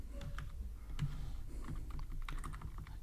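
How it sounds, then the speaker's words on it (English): Quick, light taps on a computer keyboard come in an irregular rhythm as someone types, close by and faint against a quiet room. "I'm gonna type title"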